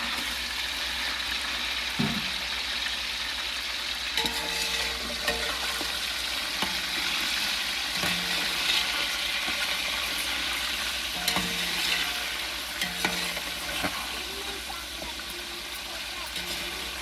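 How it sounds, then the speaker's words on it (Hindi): Whole spices sizzling as they drop into browned oil for a home-cooked village chicken chana biryani, a steady broadband frying hiss with occasional stirring clinks and knocks, close up and continuous, with faint talk at times. "तड़का ब्राउन हो गया तो मैंने इसमें जो खड़े मसाले मैंने रखे थे प्लेट में वो सारे इसमें डाल दिए"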